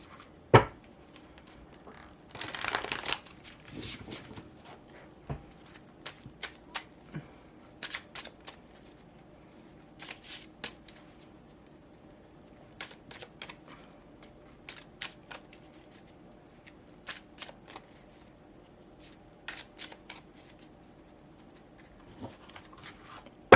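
Radiant Wilds tarot cards being shuffled and mixed, coming as a long series of soft, crisp riffles and taps in a fairly regular rhythm, close and quiet with no talking.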